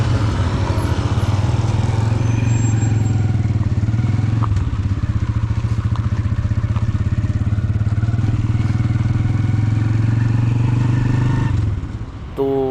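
A motorcycle rides along an open highway between Karachi and Ormara on a long road trip, its engine droning steadily and loud throughout, with some road clatter and a brief dip near the end.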